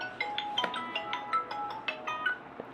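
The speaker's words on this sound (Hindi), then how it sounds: "फोन किसका रहा है, गरीब फोन बज रहा है।" A mobile phone ringtone rings out in a bright repeating electronic melody of short tonal notes, moderately loud and alone with no talking over it.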